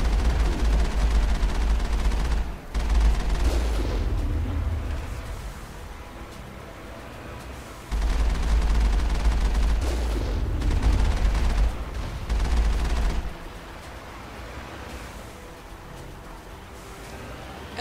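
Artillery fire in the video game Mass Effect: heavy booming bursts of rapid gunfire and explosions in two long loud volleys, separated by quieter rumbling lulls.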